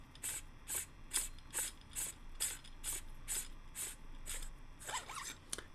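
Threaded handle of a custom 7 Chambers SK-IG lightsaber twisted off by hand makes a run of about a dozen quick, close, rhythmic gritty rasps, evenly spaced and quiet.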